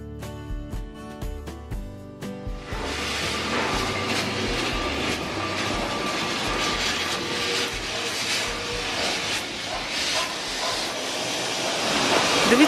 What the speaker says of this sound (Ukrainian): І поряд вже їде трамвай.